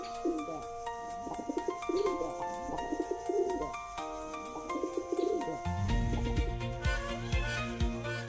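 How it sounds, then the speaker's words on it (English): A pigeon coos in repeated soft, low bubbling phrases, moderately close, with a short faint call near the start, then a brighter, denser layer of sound takes over near the end. "Pigeon."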